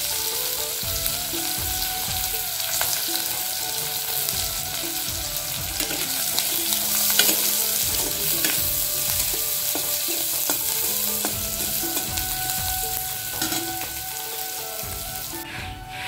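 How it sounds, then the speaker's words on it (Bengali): Chopped onions fry in hot mustard oil, giving a loud, steady sizzle with crackling spatter and the scrape of stirring throughout, close up and with no talking. "তেলটা গরম হয়ে গেছে, এখন পেঁয়াজ কুচি দিয়ে দিব।"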